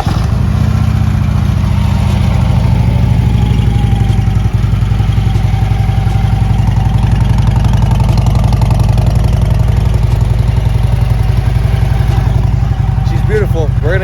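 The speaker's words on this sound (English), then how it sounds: "Y'all can hear it start up. Let's get it cranked." Motorcycle engine cranking and catching, then settling into a loud, close, steady idle with a low throbbing rumble and faint clatter throughout.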